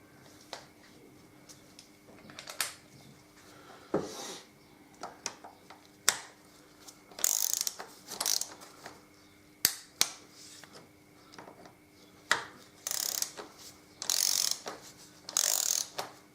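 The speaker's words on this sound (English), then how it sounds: "these bolts torque down to 14 Newton meters. So I'll just get the torque wrench" Torque wrench clicking and ratcheting while tightening engine bolts to 14 Nm on a Suzuki DL1000 V-Strom motorcycle, with a string of sharp mechanical clicks and short ratchet bursts spread across a quiet workshop.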